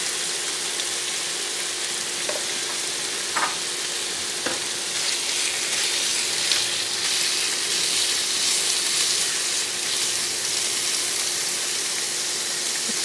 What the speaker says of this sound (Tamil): சிக்கன் வந்து நல்லா டெவல் மாதிரி ஃப்ரை ஆகிடணும். இந்த மாதிரி ஃப்ரை ஆகணும்.